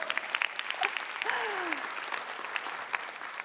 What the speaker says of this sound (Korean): 박수 쳐도 돼요